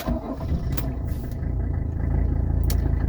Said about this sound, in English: Go ahead and show you the cold start.